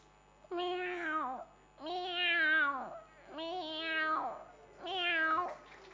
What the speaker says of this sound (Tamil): பூனை, உங்க வீட்டில் வளர்க்குற பெரிய பூனை,